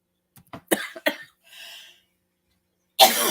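Several short, close coughs in a quick cluster, then a softer breathy exhale, a pause of silence and a loud rough burst at the end, heard alone in a quiet room.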